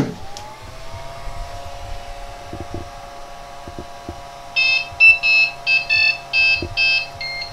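A 2016 Flashforge Creator Pro 3D printer powers on with a steady electronic whine and faint clicks, then a string of short, loud beeps at the end.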